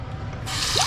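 A leaking Price Pfister two-handle bathroom faucet lets water run and drip after the supply is shut off, a close, steady wet trickle that grows fuller and brighter partway through with a small splashing burble near the end.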